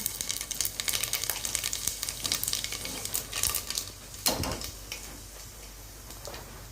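Dried red chillies, bay leaf and panch phoron crackle and sizzle in hot oil at the start of a khichuri, close popping and spitting with a louder burst near the end before settling into a softer hiss.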